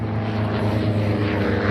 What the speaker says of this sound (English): these two Navions sound just a little bit different as they go by